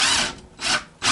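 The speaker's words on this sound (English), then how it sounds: "Now I can go underneath and finish drilling it all the way in." A power drill boring into a wall in short loud bursts, three grinding pulses with brief pauses between them.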